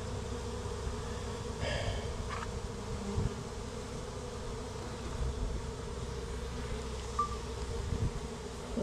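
A dense swarm of bees hums and drones steadily inside a shed wall, a continuous close buzz with a few brief higher whines and no speech.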